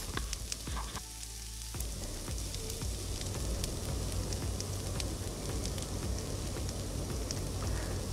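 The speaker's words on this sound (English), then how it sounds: "Mix and stir fry it." Beef sauce with mixed vegetables stir-frying in a pan, a dense, even sizzle with occasional scraping clicks from stirring, close but fairly quiet, with no talking.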